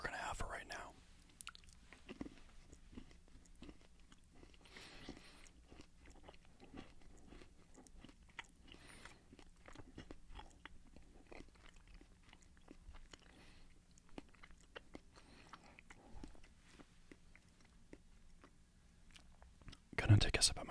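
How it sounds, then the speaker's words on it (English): Close, quiet crunching and chewing of peppermint bark continues steadily, with soft mouth noises and faint whispers in between. "That peppermint bark was delicious"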